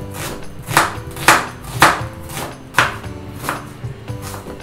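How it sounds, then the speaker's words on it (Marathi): A knife quickly chopping ingredients on a board for a baida masala, about eight crisp, uneven thuds close by over a low background, no talk. "नक्कीच पटापट आपण हा चिरून घेऊयात"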